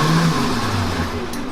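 Electric go-kart on a hardware-in-the-loop test bench, its motor spinning up the rear axle under throttle: a steady mid-pitched whirring hum with a rising tone, close and continuous.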